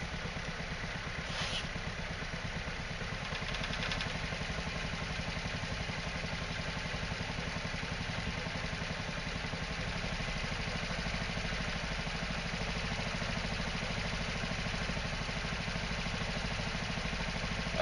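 A hydrogen-fueled scooter engine with top-of-carburetor injection runs steadily, a close, continuous mid-pitched idle and rev drone that fills the whole stretch without talk.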